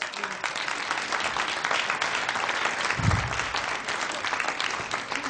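A studio audience at an Italian comedy show applauds steadily for several seconds, a dense wash of clapping with a brief low thump near the middle.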